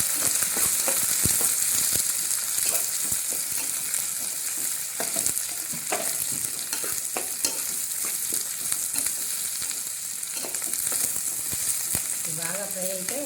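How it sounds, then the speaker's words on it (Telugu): Continuous close sizzle of onions and green chillies frying in a pan for an egg and drumstick tamarind curry, with scattered stirring clicks throughout and a brief voice near the end. "ఇలా ఉల్లిపాయలు, పచ్చిమిరకాయలు ఇవి ఫ్రై చేసుకున్నాను."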